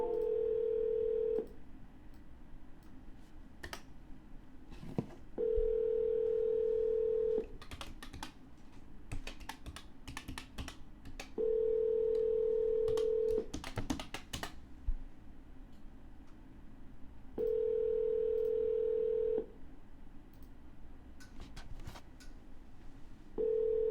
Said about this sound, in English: No answer. We're going to dial again.